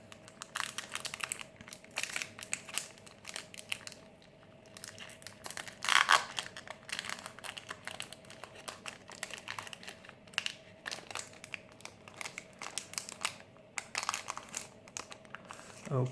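A Star Wars CCG booster pack being torn open and handled, close crinkling and crushing of foil wrapper in irregular bursts, with brief pauses between.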